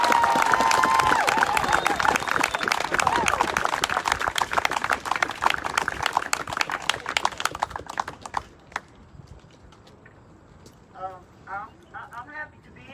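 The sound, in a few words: crowd applause for a speaker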